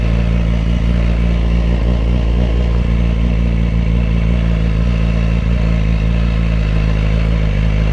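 A BMW S1000RR motorcycle engine runs close and loud, a continuous gritty, clattering mechanical roar with a steady idle rhythm and no voices.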